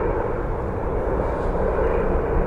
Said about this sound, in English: Got another United heavy jet inbound.